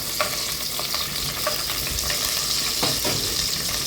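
Spices and curry leaves sizzle in hot oil inside a pressure cooker, a steady close crackle that runs throughout, with a few brief sharper pops and stirring scrapes.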